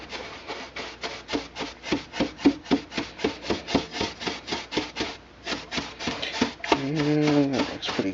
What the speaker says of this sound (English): I'll kind of brush the whole thing a little bit more vigorously down on the bottom.